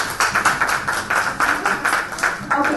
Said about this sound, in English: A round of applause for all these lovely speakers.